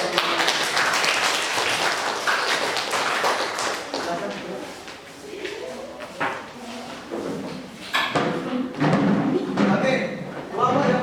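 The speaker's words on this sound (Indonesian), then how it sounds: "Oke, tepuk tangan." Classroom applause after a group presentation in a school lesson, a dense patter of clapping with thumps and desk knocks, mixed with students' chatter throughout and rising again toward the end.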